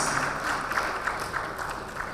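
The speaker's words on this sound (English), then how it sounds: "Let's give them a very big round of applause." An audience at a closing session of a live networking event gives a sustained, even round of applause that stays at a steady volume throughout.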